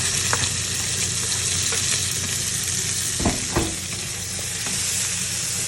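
Tomato and onion sautéing in a pan for ginisang mongo, a dense continuous sizzle with a couple of sharp utensil knocks midway, close and steady, no talking.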